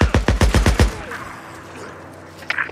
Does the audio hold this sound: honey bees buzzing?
no